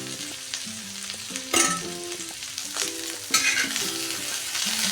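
Sliced bitter gourd fries in hot oil with a strong steady sizzle, while a spatula stirs and scrapes the pan in repeated clattering strokes, with no voices.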